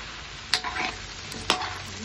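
Chopsuey vegetables frying in a pan while being stirred, a steady sizzle with two sharp spoon scrapes about a second apart.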